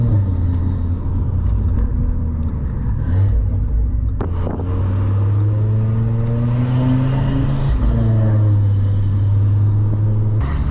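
A Stage 3 Audi RS3 with a hybrid turbo and exhaust valves open is revved repeatedly, its deep five-cylinder note rising and falling through loud, close sweeps and dropping back to a burbling idle.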